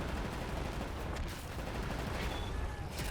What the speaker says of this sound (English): Finally, some shooting is going to happen.